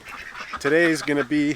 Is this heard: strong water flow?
no